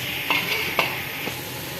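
Marinated beef sizzles in hot cooking oil in a pan, a steady hissing fry with a few soft clinks and stirring knocks, close and moderately loud.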